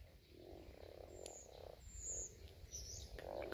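Frogs croak and purr in a warm, shallow spring pond, soft repeated low trills rising and falling in short bursts, faint and fairly distant, with occasional high chirps over them and no talking.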